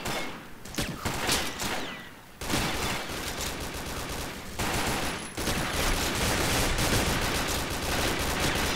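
Sniper rifle gunfire in the online shooter Combat Arms, a series of sharp, loud shots with brief gaps and sustained battlefield noise between them, carrying on throughout.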